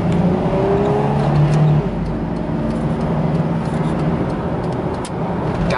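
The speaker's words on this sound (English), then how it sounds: "Downshifts just like it should, upshifts just like it should." A Chevy Astro van with its 4.3 engine drives through night traffic, a steady engine drone with a brief higher whine early on, then a shift and continued running road noise, no voices.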